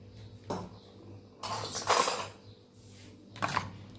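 A spoon clinks and scrapes against a bowl of thick instant dosa batter in a few separate bursts of metallic taps, fairly quiet with pauses between them.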